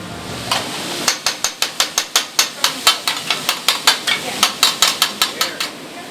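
Rapid metal spatula chopping of cheesesteak beef with peppers on a flat grill, a long steady run of sharp evenly spaced clanks, close and loud, with faint sizzling underneath.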